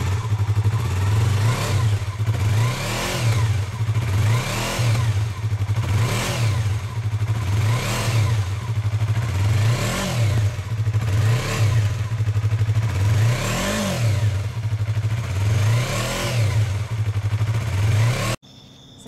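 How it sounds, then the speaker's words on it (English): A Yamaha R3 motorcycle with a Scorpion slip-on exhaust, baffle insert fitted, is revved outdoors in repeated sharp blips over a steady idle, about eight rises and falls, loud and close with no speech. "We're going to go ahead and fire it up. And this is going to be with the insert inside."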